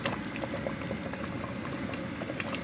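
Red peas soup boils in a pot with a continuous, close bubbling and gentle popping, soft and even throughout.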